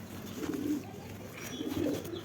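Domestic pigeons, a male and a red female kept as quality breeding stock, give two soft, throaty coos in close succession, near and fairly quiet.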